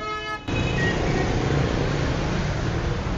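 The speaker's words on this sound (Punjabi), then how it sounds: "ਅਗਰ ਚੈੱਕ ਕਰ ਲੈਣਾ ਸੀ ਇਹਦੇ ਹਾਰਨ ਹੂਰਨ" A toy car's horn gives one short electronic toot at the start before a steady buzzing hiss carries on, close and fairly loud, with no voices.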